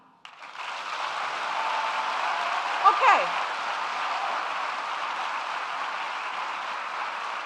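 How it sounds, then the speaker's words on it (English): Sustained applause from a large forum audience in Kigali, Rwanda fills the whole stretch, steady and dense, with a brief spoken word and a few louder bursts partway through. "please let me hear you clap"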